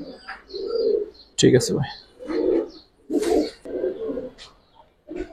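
Silver khaki pigeons coo close by in soft, rounded, repeated phrases, with a brief spoken exchange between people mixed among the calls.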